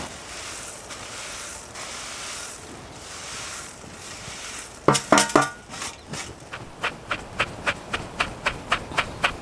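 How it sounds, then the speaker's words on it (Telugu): Pounding coriander seeds in a mortar for black idli gun powder on a farm: after a windy outdoor hiss, a steady run of sharp, close thumps sounds in an even rhythm, with no talk. "ఇప్పుడు ధనియాలు కూడా వేసుకుని దంపుకుందాం"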